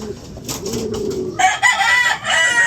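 Newly hatched chicks chirping near a brooding hen, high thin peeps coming in a busy cluster in the second half after softer lower bird sounds at the start.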